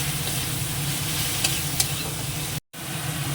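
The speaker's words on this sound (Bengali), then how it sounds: "ভেজে নিয়ে আমি এটার মধ্যে একবার টমেটোটাও দিয়ে দিই সেটার কাঁচা গন্ধে চলে যাবে নরমও হয়ে যাবে" Tomato added to already fried ingredients sizzles steadily in a pan, a dense close frying hiss with a couple of faint stirring scrapes and a brief dropout near the end.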